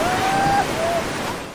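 Wind and lapping waves on the artificial lake of the Vaires-sur-Marne Olympic nautical stadium, a steady broadband wash with gusts, loud and close, with a faint tonal whistle early on and no speech.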